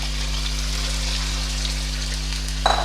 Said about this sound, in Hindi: ये 1 kg मेरा मटन है जिसको मैं इसमें डाल रही हूँ। ये तकरीबन पूरा 1 kg ही है। इसको डाल के मैं पहले थोड़ा फ्राई करूँगी।